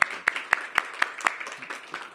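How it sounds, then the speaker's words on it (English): Audience clapping at a city government event announcing a technology investment of laptops for students, a sparse, fading round of separate sharp claps at a steady beat from a small group, fairly close with no talking. "We can clap that up."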